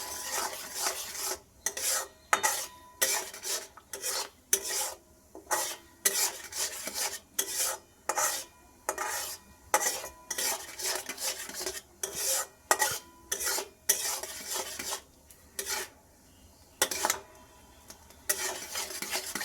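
Tamarind chutney is stirred in a pan, with a long run of rhythmic scraping strokes of a spoon against the metal, loud and close, with short pauses between them.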